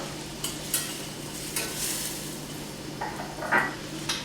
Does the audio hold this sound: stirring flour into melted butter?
yes